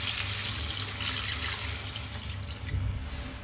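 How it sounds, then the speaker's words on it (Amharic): Water running from a tap into a pot of lamb coconut curry as it cooks, a steady close splashing and trickling wash that carries on for a few seconds with no talking. "ውሃ እንጨምራለን።"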